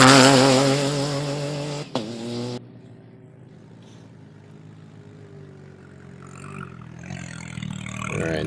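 A T3-class rally car pulls in at the stage start of the Abu Dhabi Desert Challenge, its engine roaring loudly and close before cutting to a low idle rumble, with faint mechanical clatter and distant activity behind it.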